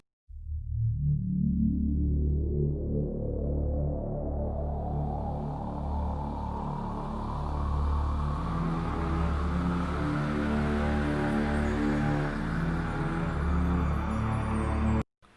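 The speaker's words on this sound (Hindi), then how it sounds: "और ब्रह्मांड की आवाज़।" A sustained, eerie space recording presented as the sound of the universe: a continuous low droning hum with a slowly rising, sweeping tone layered above, steady and loud throughout before cutting off abruptly.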